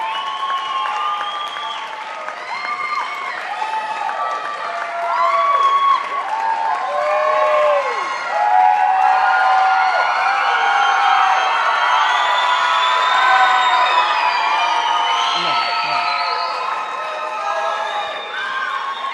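A pageant crowd roars with loud, sustained applause and cheering for contestants returning to the stage, dense clapping layered with shouts and whoops that swell and hold for the whole stretch.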